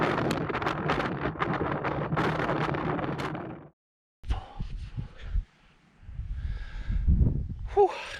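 Strong wind on a frozen Scottish mountain summit roars and buffets against the microphone in heavy gusts, breaking off abruptly, then returning in rougher bursts.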